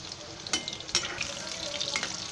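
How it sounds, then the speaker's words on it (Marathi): Chicken 65 pieces deep-fry in oil with a steady, close bubbling sizzle. Brief sharp crackles pop out at intervals as the pieces are turned. "हे लाल होईपर्यंत तळायचे."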